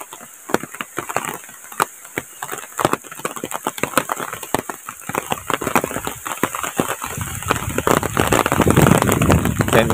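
Rain on a foggy late afternoon in a remote village at a forest edge, scattered sharp drips and taps on surfaces building into a denser, louder patter toward the end, with no voices.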